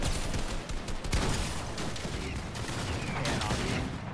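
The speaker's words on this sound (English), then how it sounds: "He's shooting at me." Fortnite gunfire crackles in dense, rapid bursts of shots that overlap almost continuously, loud and close, with a few heavier thumps mixed into the chaotic firefight.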